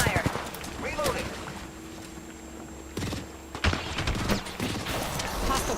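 Enemy gunfire in a shooter game, several sharp bursts of shots scattered through the clip, with a sustained volley near the middle, mixed with footsteps, game effects and voice lines.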